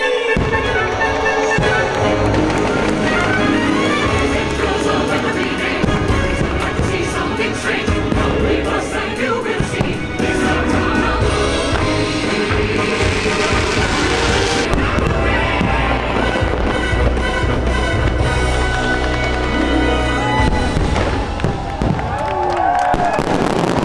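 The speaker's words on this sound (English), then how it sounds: "So I do have to admit the fireworks show was pretty awesome" Fireworks burst over a Disney Halloween party, a dense, loud, continuous barrage of booms and crackles layered with music and crowd noise throughout.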